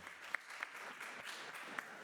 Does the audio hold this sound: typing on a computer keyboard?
no